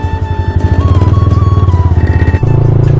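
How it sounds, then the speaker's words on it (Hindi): A Yamaha RX100 two-stroke motorcycle in a drag race, its loud, buzzing engine pulsing rapidly and rising in pitch as it revs, then dropping to a lower, steady throb near the end, close and with no talk. "ड्रैग रेस करने में RX 100 के साथ, मतलब इसका जो साउंड है ना वो एक नंबर है गाइस, ये चेक करो"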